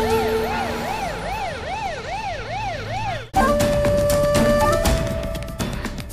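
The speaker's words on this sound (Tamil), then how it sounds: "அப்ப வந்த ஆம்புலன்ஸ் யார் சொல்லி வந்துச்சு?" An ambulance siren wails in a rising and falling cycle, loud and close, then abruptly switches to a harsher, denser pattern of siren and traffic noise for the rest of the clip.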